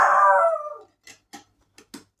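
A puppy lets out a long, loud howl that fades after about a second, followed by four short, quieter yips or barks spaced apart, with no talking.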